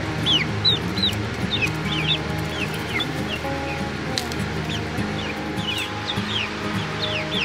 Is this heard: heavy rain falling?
no